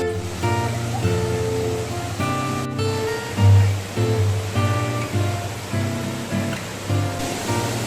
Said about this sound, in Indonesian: Air terjun ini memiliki ketinggian sekitar 20 meter.